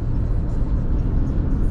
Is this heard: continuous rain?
no